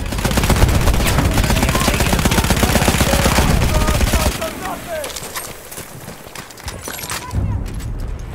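Lewis gun machine-gun fire in a video game battle at the Volga river: a loud, continuous rapid rattle of shots for about four seconds, then scattered distant gunfire and a short second burst, with voices shouting in the background.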